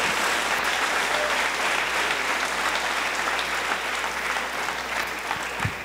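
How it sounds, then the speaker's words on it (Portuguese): A church congregation applauds steadily and loudly throughout, a dense continuous clapping with no voices over it. "Você pode aplaudir a Jesus, você pode glorificar o nome do Senhor."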